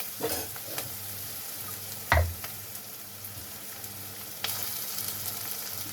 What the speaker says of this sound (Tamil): வெங்காயம் நல்லா வதங்குறது இன்னும் கொஞ்சம் வதங்கட்டும்